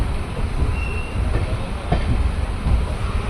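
Train running at speed near Junagadh junction, a dense low rumble of wheels on track with faint clacks and a thin wheel squeal, heard from inside the carriage without speech.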